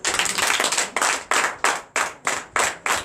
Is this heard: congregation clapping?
yes